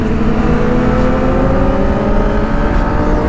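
A KTM RC200 sport motorcycle revs hard with a loud, continuous, droning exhaust note that holds steady and close throughout, with no clear separate pops standing out.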